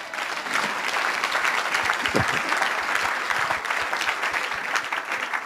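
A church congregation claps together in sustained, dense applause at close range, with a steady texture of many hands throughout.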